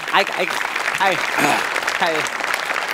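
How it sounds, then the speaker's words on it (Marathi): A live studio audience at a Marathi comedy reality show claps in a steady burst of applause, with voices and laughter rising over it. "एकदा जोरदार टाळ्या झाला पाहिजेत."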